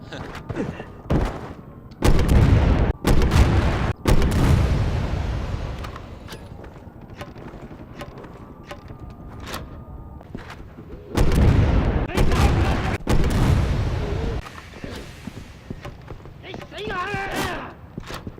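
A grenade launcher firing in Resident Evil 6, heavy booming shots and blasts in clusters, with gameplay effects and someone talking over much of it.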